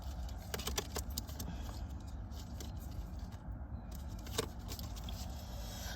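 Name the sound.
shuffling tarot cards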